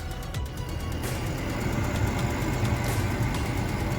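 A whining, whistling heater fan motor in a Ford Fusion runs steadily at close range, a continuous broadband hum with a thin high tone and a few faint ticks, and no talk.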